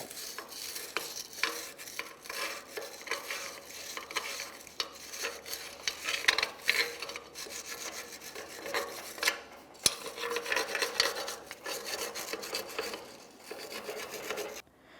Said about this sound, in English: Let's continue on with a wire brush. We're going to make sure we clean out this entire area of the control arm where the brand new bushing needs to go.